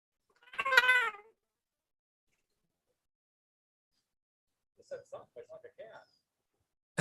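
A cat meows close to a microphone in one drawn-out call, followed after a pause by a short run of quieter, choppier mews.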